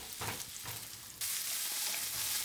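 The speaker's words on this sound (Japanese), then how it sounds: "そこに色が変わったら玉ねぎを追加。 全体が馴染むように少し混ぜます。" Onion tipped into garlic frying in an electric pressure cooker pot, a few stirring scrapes followed by a sudden steady hiss of sizzling that holds to the end.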